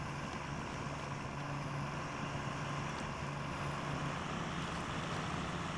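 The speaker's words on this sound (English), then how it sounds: "our first test is bringing it through this bog here and see how it does" A modded truck grinds through a bog in SnowRunner, its steady engine drone low and unbroken, heard alone and fairly quiet.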